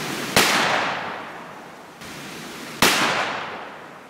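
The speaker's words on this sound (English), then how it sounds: "I think it's time to do a couple of 44 shots." Two loud .44 Magnum revolver shots fired outdoors at an iMac computer, each a sharp crack followed by a long fading echo, spaced a couple of seconds apart.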